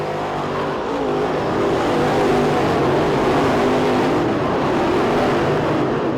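Race cars in a dirt-track heat race at the Winter Nationals, a dense roaring drone of several engines running together on the back straightaway, loud and continuous without a break.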